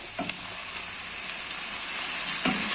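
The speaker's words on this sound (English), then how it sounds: "Now we can start adding the cream." Cream poured into a hot pan of cooked bacon and mushrooms, giving a steady loud sizzle and frying hiss, close up with faint stirring thumps and no speech.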